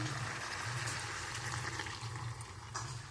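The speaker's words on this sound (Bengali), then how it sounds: "এবার আমি গরম জলটা দিয়ে দেবো পরিমাণ মতো।" Hot water poured into a pan of potato curry (aloo dum), a steady continuous splashing and trickling pour, close and moderately loud, with no talking.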